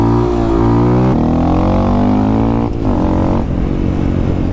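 A Honda Grom motorcycle engine revs hard during wheelie riding, loud and close, holding a steady buzzing drone that drops in pitch partway through, dips briefly, then climbs again.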